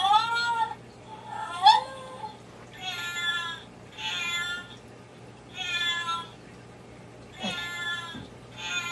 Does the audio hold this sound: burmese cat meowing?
yes